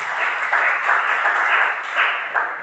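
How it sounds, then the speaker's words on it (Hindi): Audience in a lecture hall at a university workshop claps together, a dense burst of hand clapping that stays loud and even for a couple of seconds, then swells briefly before fading, with no talking over it. "उन लोगों की ताली बनाई जाए जिसने महाभारत बोला कि नाइस क्लैप"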